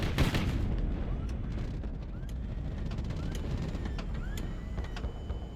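Ship guns fire in the video game HighFleet, a heavy boom at the start followed by dense rumbling battle noise, scattered sharp cracks and faint whistles, with a voice talking underneath.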